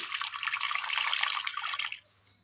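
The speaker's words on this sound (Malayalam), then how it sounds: "ശേഷം അല്പം വെള്ളം ഒഴിക്കാം" Water pours steadily into a pressure cooker holding jackfruit seeds for a curry, a loud, close gushing splash that runs for about two seconds and then stops abruptly, leaving near silence.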